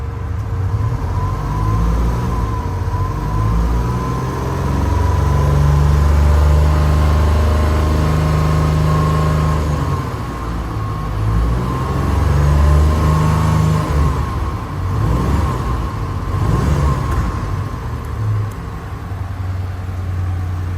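A 1973 Citroen SM engine idles and revs close by, rising and falling through several long throttle blips with a steady mechanical hum underneath, loud and continuous with no voices.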